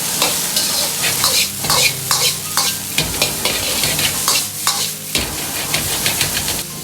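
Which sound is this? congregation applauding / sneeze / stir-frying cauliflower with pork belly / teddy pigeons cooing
stir-frying cauliflower with pork belly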